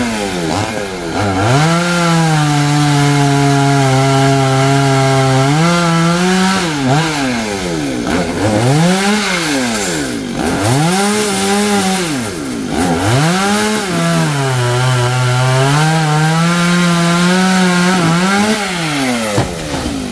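A chainsaw cuts down coconut trees, its engine droning loud and close for a long stretch, revving up and down repeatedly as the blade bites and eases.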